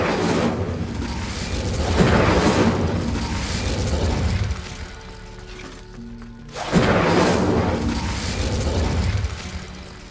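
Incendio fire spell cast in Hogwarts Legacy, heard as two loud, booming bursts of flame separated by a short lull, set against continuous in-game rumble and ambience.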